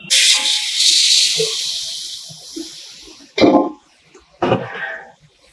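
Green chillies, coriander and curry leaves hiss and sizzle loudly in hot oil as they fry in a large cooking pot, with a steady roar that drops away before two sharp bursts of crackling.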